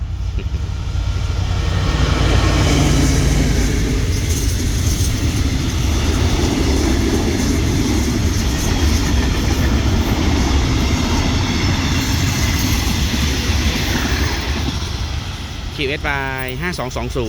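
Locomotive QSY 5220 hauls train 555 out of Ban Phai station with a loud, continuous rumble and rolling rail noise that persists throughout. A brief tonal blast near the end may be its horn.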